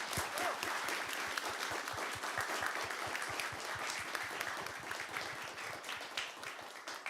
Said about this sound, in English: So let's have a little round of applause for them.